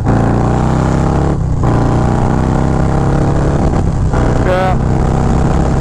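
A Harley Low Rider S with a 122 Screaming Eagle stage 3 engine roars loud and close, revving in rising, falling pulls with brief drops and a quick gear change while a rider speaks briefly over it.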